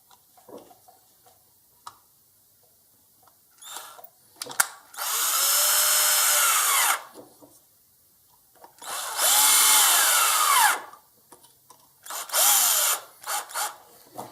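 Power driver running M4 screws into a Traxxas Stampede 4x4 front bumper, with three close whirring bursts that rise and fall in pitch as each screw seats, separated by quiet handling clicks.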